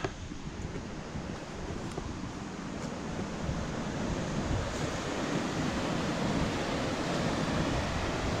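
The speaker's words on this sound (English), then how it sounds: "Running water." Water rushes steadily near an old stone bridge on a mountain lane, a continuous broadband wash of moderate level with faint wind buffeting and no talk.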